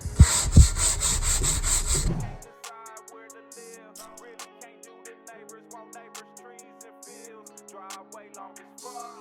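A wooden butcher block countertop is sanded down in an abandoned building being renovated. The close, loud rubbing of the sanding lasts about two seconds, then stops, leaving faint scattered clicks and light tapping.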